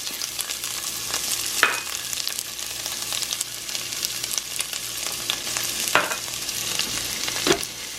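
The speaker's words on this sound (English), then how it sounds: "I'm gonna saute it first." Garlic and onion sautéing in a pan crackle with a continuous sizzle, broken by a few sharper scraping stirs of a utensil at close range.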